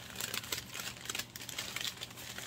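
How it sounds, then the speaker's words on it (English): Continuous crinkling of packing paper during an unboxing, close and fairly busy, with irregular crackly bursts throughout and no voices. "But not the paper, so I apologize for the noise."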